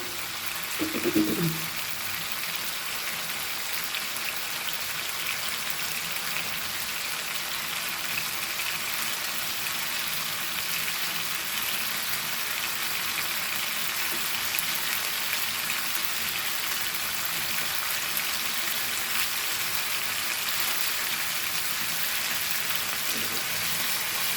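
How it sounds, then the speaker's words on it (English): Mandeli anchovy fish fry in a pan until crispy, making a steady, dense sizzle like rain on a surface, close and continuous, with a brief clatter at the start. "Fry this very crispy."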